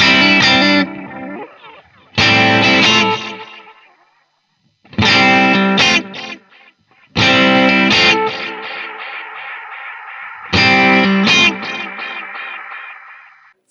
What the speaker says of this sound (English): that was called the tube echo